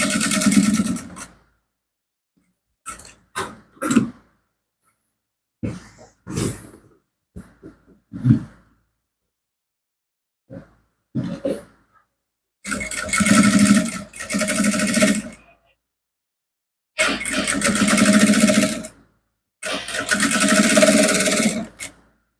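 An electric sewing machine stitches fabric in several bursts, some short and some lasting a few seconds, with quiet pauses between them. Close and clear, with no talking.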